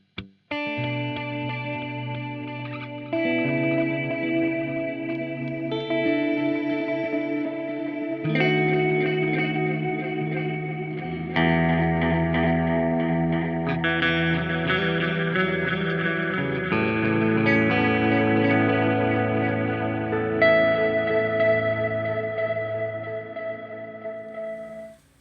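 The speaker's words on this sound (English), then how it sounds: "A poly, which is basically like the polymoon. Oh yeah. Similar sort of idea to the polymoon," Chords from a Meris LVX modular delay run through a polymoon-like poly delay effect bloom into shimmering, layered echoes, with sustained tones shifting in several sections and smeared, chorus-like trails filling the space.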